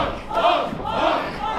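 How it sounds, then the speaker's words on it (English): A wrestling crowd at a South Common Recruit show on a concrete stage area honks like geese and cheers, a loud, dense roar of voices that swells and dips continuously throughout. "They're honking in every corner of the building."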